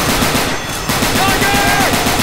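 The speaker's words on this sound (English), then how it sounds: "What's up with you shooting me?" Gunfire from Left 4 Dead 2 keeps up as dense, loud, rapid automatic shooting from start to end with a brief dip, close and continuous.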